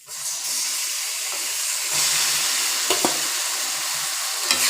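Sweet, sour and spicy pickle is stirred and fried in oil, a continuous hissing sizzle with scraping stirs and a couple of sharp clicks near the end, close and unaccompanied by talk.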